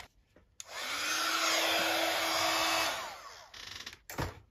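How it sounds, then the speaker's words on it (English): A heat gun blows steadily on spray-coated paper envelopes for about two seconds, a loud, close, continuous rushing whir with a faint rising whine, then cuts off and leaves light handling clicks. "we'll just hurry up the process with the heat gun"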